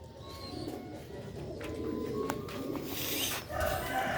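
Breeder pigeons cooing in a Sialkot bird-keeping setting, soft repeated low coos over a steady bed of ambient noise, with a few brighter calls from other birds.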